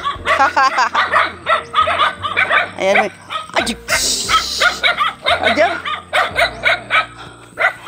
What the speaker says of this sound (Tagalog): Grabe po ang aso. Hinahabol ako.